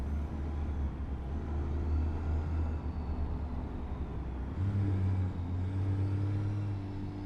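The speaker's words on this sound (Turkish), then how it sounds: "Baya böyle ciğerden turbo sesi alıyor araba." A modded Toyota SUV engine in Euro Truck Simulator 2 drones steadily at moderate volume, its pitch shifting upward partway through as it accelerates, with a faint turbo whistling hiss above.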